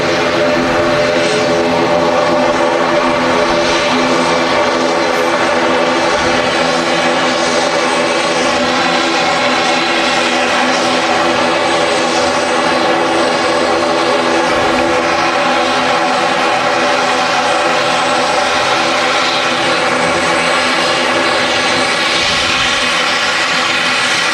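Aer Lingus Regional ATR 72 turboprop airliner from Dublin at Manchester Airport, a loud, steady engine and propeller drone that holds throughout with a broad roar and tonal hum.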